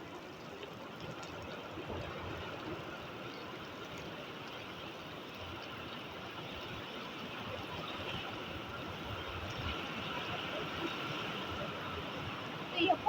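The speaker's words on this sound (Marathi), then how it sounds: "किती पाणी चालू आहे" Rainwater flows steadily across a farm as the monsoon rains begin, making a continuous broadband rush of running water that holds even throughout, with no break and only a slight rise near the end.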